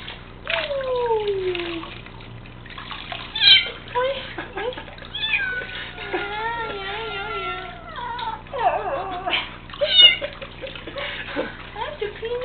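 A kitten meows repeatedly in high, wavering cries over splashing water, with a person talking softly between the meows.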